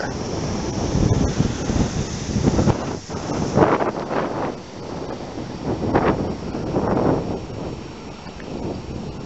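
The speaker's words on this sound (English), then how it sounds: "Back to the wind again." Wind gusts rush steadily across an open outdoor spot in the late afternoon, a broad continuous roar with surging swells, loud and close on the microphone, with no talking.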